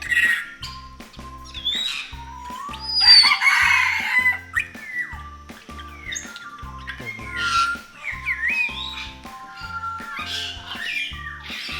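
Many chickens cluck, squawk and crow together close by in a poultry enclosure, a busy overlapping flock chorus with a rooster call standing out.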